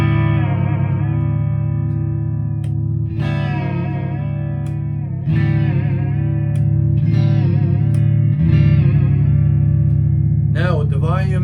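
A Harley Benton ST Modern Plus HSS electric guitar plays in a clean tone, ringing sustained chords and notes in separate phrases over a steady low hum, fairly close and loud.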